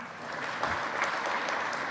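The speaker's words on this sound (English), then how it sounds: "Clap if the left is fake." Scattered clapping from a conference audience during a talk on image colorization, a soft, distant patter of hands lasting a couple of seconds.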